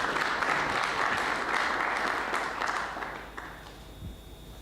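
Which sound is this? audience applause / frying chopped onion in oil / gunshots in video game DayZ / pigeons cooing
audience applause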